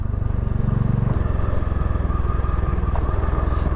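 Motorcycle ridden slowly along a mountain road near Darjeeling toward Dawaipani, its engine chugging steadily and close with a strong low rumble throughout, the pitch dropping slightly about a second in.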